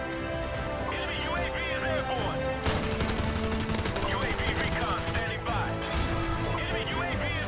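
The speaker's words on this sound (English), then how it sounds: "The RPD is a versatile light machine gun." RPD light machine gun in Modern Warfare Remastered firing in short sustained bursts over steady game music, with a brief pause before the shooting resumes, loud and close.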